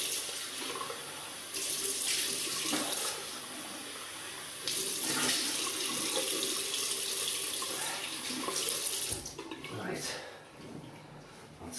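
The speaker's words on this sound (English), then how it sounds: "So I'm just going to rinse off." Water runs steadily from a tap into a sink, its splashing rising and falling in surges as a face is rinsed after a shave with an Edwin Jagger DE89L razor.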